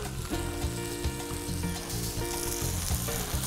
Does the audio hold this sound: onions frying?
yes